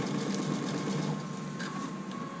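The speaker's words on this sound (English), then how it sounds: "what you're doing here is you're sewing the seam down so that it's finished" A sewing machine stitches a seam on a zipper bag with a continuous, even mechanical whir at close range and no speech.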